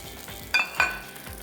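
Rice being stir-fried with green onion and a splash of soy sauce, worked with a spatula: a steady low sizzle with two sharp scraping clinks of the spatula against the pan, no talking.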